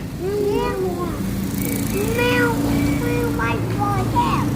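A temple cat meows several times in short rising and falling calls, close and clear, over a steady background hum with people talking nearby.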